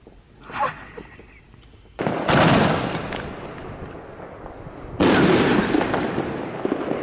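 New Year's Eve fireworks explode in two loud, sharp booms that each trail off into long rumbling echoes, following a fainter crackle and whistle at the start.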